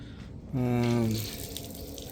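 Water rushes out of an opened hose after a home's main water supply is shut off, starting with a brief high, whining squeal, then settling into a steady, moderately loud hiss of flow.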